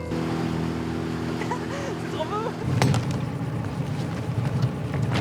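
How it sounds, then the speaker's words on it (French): Small motorboat ride on open water, the outboard engine hum and splashing hull running steadily after a shift midway, with voices talking briefly over it. "un de leurs amis équipé d'un petit bateau à moteur sur lequel nous embarquons"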